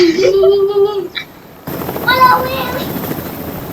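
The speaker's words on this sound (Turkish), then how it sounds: "Helikopter abi. Helikopter abi." Rhythmic mechanical thumping of a helicopter in a video game, mixed with game effects and brief voices, with a sudden shift partway through.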